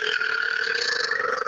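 A single long, drawn-out burp, loud and close, lasting over a second and a half.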